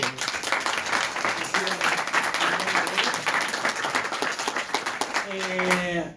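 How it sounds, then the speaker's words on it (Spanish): A crowd applauds steadily, dense clapping filling the whole stretch, with a voice rising over it near the end. "Un fuerte aplauso para ellos."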